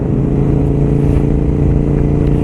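A KTM 990 SMT supermotard motorcycle engine runs with an aggressive, loud, steady throbbing drone, close by and continuous with a strong low rumble and no talk over it.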